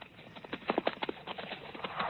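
Horses' hooves clip-clop in a western film, a quick run of distinct clattering beats that is moderately loud and close, with no voices.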